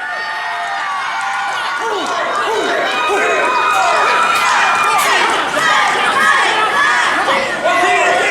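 A wrestling video game arena crowd rumbles and cheers loudly and continuously, a dense roar of many voices that swells slightly toward the middle and stays steady to the end.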